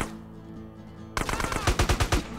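Rapid automatic gunfire from GTA: San Andreas, a loud burst of about six close, punchy shots following a quieter stretch of background game music, with no talking.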